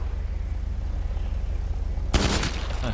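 A sudden burst of rapid video game gunfire in GTA Online breaks out near the end after a steady low hum, sharp and loud against the quiet background.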